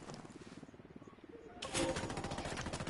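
Rapid machine gun fire in a first-person shooter, a quiet rattling burst that grows louder and denser partway through and keeps going to the end.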